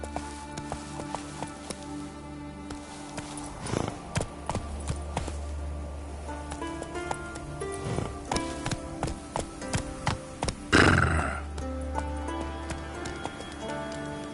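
Hooves of Roach, the horse in The Witcher 3 game, clip-clop in a steady, fairly loud galloping rhythm for the whole stretch, with a louder burst of movement and a brief whinny-like sound near the end.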